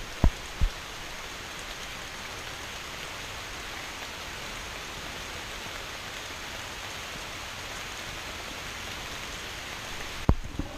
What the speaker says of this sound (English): But it is a beautiful rain.